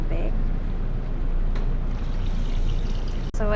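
Water pours steadily into a cooking pot for papaya tinola soup, a continuous broadband splashing wash that fills the whole stretch and stops abruptly near the end.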